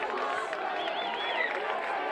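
A lively crowd at a high school baseball game, North versus South, keeps up a continuous murmur of chatter and cheering, with a few whistles or calls standing out over the steady noise.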